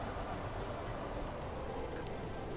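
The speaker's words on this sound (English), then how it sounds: "Trying to find the metro. Where's our train?" A metro train in the city transport game Cities in Motion 2 gives a dense, steady rumble with faint rhythmic ticking, continuous and fairly quiet across the short stretch.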